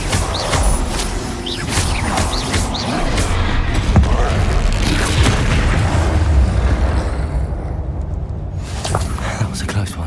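Bombarda spell explosions in the Hogwarts Legacy video game during a goblin battle, loud booming blasts and bursts amid a busy combat mix, with voices speaking over the action.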